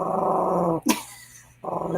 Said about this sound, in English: He's growling though because he doesn't like the Great Dane.